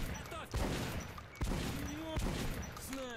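Sniper rifle fire in the video game Metro: Last Light: three sharp shots spaced roughly a second apart, moderately loud, with in-game sounds and a faint voice in the background.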